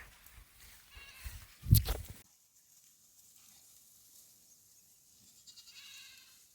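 Goats in a rural village give a loud, brief bleating burst near the start, then the air goes quiet with only faint background noise.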